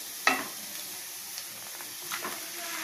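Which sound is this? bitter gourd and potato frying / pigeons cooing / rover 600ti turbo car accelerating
bitter gourd and potato frying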